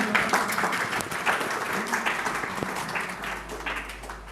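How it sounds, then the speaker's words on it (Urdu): Audience applause, a crowd clapping steadily and fairly loudly, tapering off toward the end with a low hum coming in. "آپ کی بھرپور تالیوں میں"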